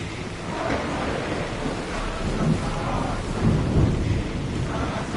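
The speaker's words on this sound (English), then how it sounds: "There's a storm ahead!" A thunderstorm with heavy rain at sea in Assassin's Creed Odyssey, steady dense roar of rain and wind with rolling rumbles of thunder swelling through, loud and continuous with no talk.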